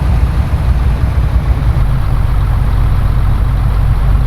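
A Mercedes Actros 510 truck with a 12-speed gearbox, its diesel engine running steadily with a deep, even, continuous rumble close by.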